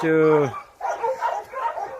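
Yakut hunting dogs at a kennel give a sharp, tonal bark up close, followed by a few softer yips and whimpers.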